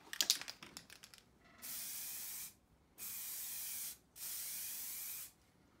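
Spray paint is applied to a car rocker cover during its third coat: a few light clicks, then three long, steady hissing bursts with short pauses between them, close and fairly loud.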